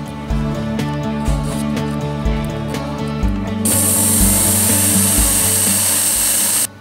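A knife being sharpened on a Work Sharp belt sharpener gives a loud, steady mechanical whir with repeated rhythmic grinding strokes, then a brighter continuous abrasive hiss as the blade rides the belt.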